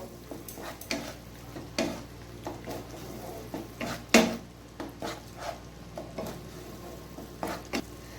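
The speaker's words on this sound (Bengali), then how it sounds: "এরপর আমি মশলার সঙ্গে আবার ভালোভাবে কষিয়ে নেব।" Melon seed paste being stir-fried with spices in a pan for a curry, rhythmic scraping strokes of a spatula every half second or so with occasional sharper knocks on the pan, close and steady without talk.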